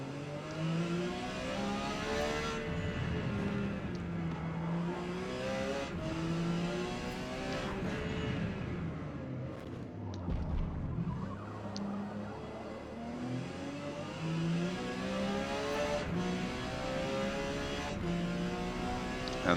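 Porsche 956 racing car in Forza Motorsport lapping Kyalami, its engine revving up and down through gear changes in repeated swelling whines, steady and close throughout with no talk.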